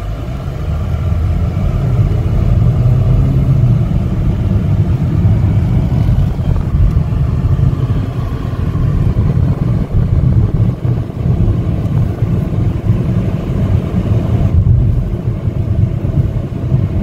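A 2015 Chevrolet Malibu LS drives along with a steady low engine and road rumble heard from inside the cabin, constant and fairly loud throughout.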